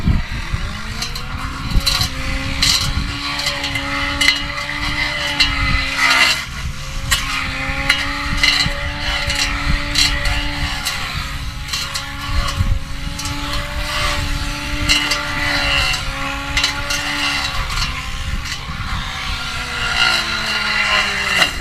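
Powered Christmas tree shearing trimmer with a spinning blade, a loud continuous motor whine with wavering pitch for over twenty seconds, dipping briefly midway before revving steadily on.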